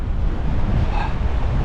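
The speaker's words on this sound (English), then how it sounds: "Sorry, this audio is going to be terrible, it's so windy." Strong wind buffets the microphone at an ocean rock fishing spot, a loud, continuous low roar with surf faintly mixed in underneath, and no voices.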